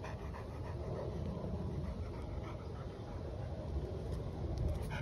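A dog pants steadily and close by, a dense, continuous rhythmic breathing over a low background rumble, with no talking.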